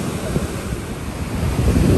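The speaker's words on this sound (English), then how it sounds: "it's so nice listening to that sound of the ocean" Steady broadband rush of ocean surf, a continuous wash of breaking waves with some wind noise, no voices.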